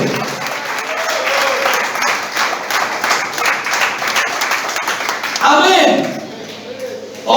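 Church congregation applauds, a sustained burst of clapping with a voice speaking over it, ending in a louder swell.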